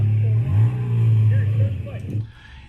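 Motorcycle engine accelerating on a speed run, a low throbbing drone that rises and wobbles in pitch, then drops away and fades near the end, close and loud.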